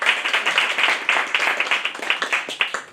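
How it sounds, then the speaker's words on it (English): A small audience at a campaign event applauds a speaker with close, crisp rhythmic clapping that holds steady for a few seconds. "So I shall hand over now to Iris, if we can give her a nice round of applause."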